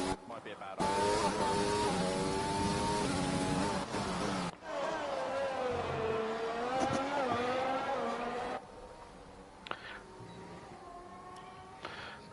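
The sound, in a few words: Audi Formula 1 car engine in a video game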